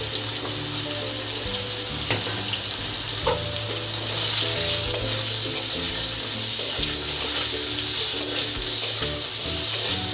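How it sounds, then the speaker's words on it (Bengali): Sliced pointed gourd frying in hot oil for a homestyle fish curry, with a steady, close sizzle throughout and occasional clinks and stirring; no talk. "ফার্স্টে আমি পটলগুলো ভেজে নেব।"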